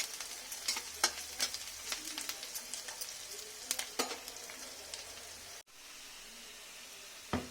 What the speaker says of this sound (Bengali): রসুনটাকে লাল করে ভেজে নিয়ে